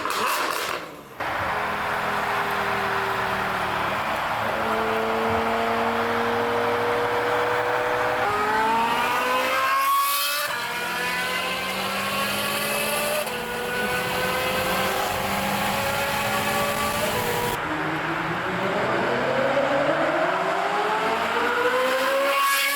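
A tuned Ferrari 458 engine revs hard and loud, with rising and falling harmonic sweeps across repeated throttle blips and popping exhaust crackles, heard alone and close for over twenty seconds.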